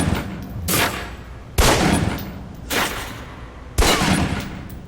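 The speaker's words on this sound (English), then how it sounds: "Equip the pistol, then aim down range and take some shots at the target." Pistol shots at a range target in the video game Alpha Protocol, five loud, crisp reports spaced roughly a second apart, each trailing off into a brief echo, with no voices.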